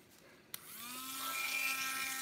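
Drill bit spinning up to widen a hole for a magnet, a sharp tap followed by a rising, steady high-pitched whine that holds and strengthens, close and fairly quiet.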